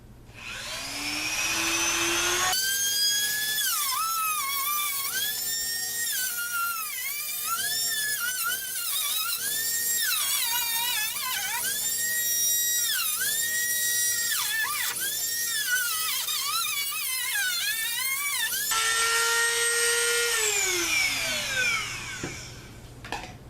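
A Dremel rotary tool fitted with a shield cuts into a Blazer truck topper, whining at a steady high pitch that dips and recovers repeatedly as it bites, loud and close, then spins freely and winds down.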